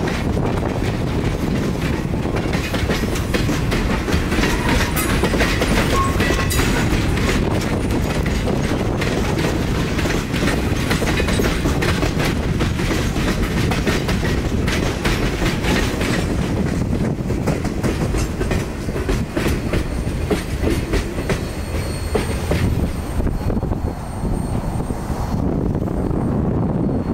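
A U.S. Sugar Railroad train rolling along the line, a loud, steady rumble of rail cars with rhythmic clickety-clack from the wheels, sustained close by throughout.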